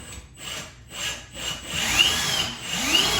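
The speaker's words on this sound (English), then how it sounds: "I'm gonna screw it in. Please let us hit the stud." A power driver sends a screw through an upper kitchen cabinet toward a wall stud, with close bursts of motor whirring and rising whines as the screw is driven, and no talking.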